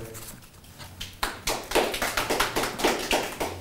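An audience claps for a student finishing a Soil & Water speaking contest presentation: a few scattered claps at first, then a brisk, even round of applause swelling to a steady patter of hands.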